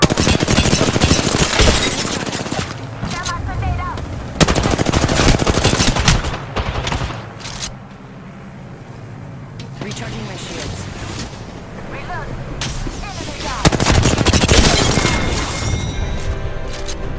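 Gunfire in the Apex Legends battle royale game, with dense bursts of rapid automatic shots and booms, easing off mid-clip then returning loud, while a voice talks over the action.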